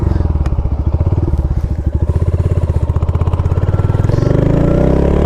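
Royal Enfield Hunter 350 single-cylinder motorcycle engine idling and thumping loud and close, a steady low pulsing beat running throughout with a slight rise near the end.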